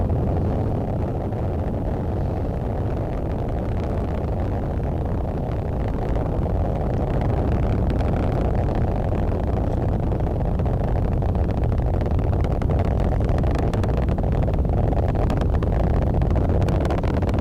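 Falcon 9 rocket engines roar steadily during a launch from Vandenberg Air Force Base, a dense, continuous low rumble that stays loud and unbroken throughout, with no talk over it.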